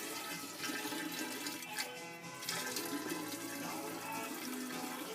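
Water rushes and splashes steadily into a container, gallon by gallon, a continuous loud gushing with slight surges throughout.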